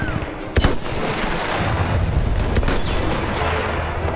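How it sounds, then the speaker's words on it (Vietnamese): Machine gun fire in Battlefield 1: a few sharp shots followed by a steady rattle of rapid fire under a dense noisy background. "Này thì súng máy nè."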